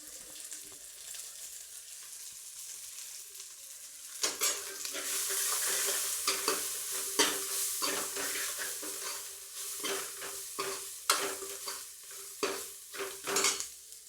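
Potatoes, carrots, peas and cauliflower sizzling as they fry in a pan at home, quiet at first, then loud hissing with repeated scraping and clinking of a spatula stirring against the pan.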